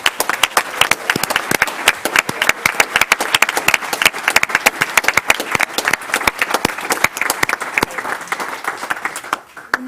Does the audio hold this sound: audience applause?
yes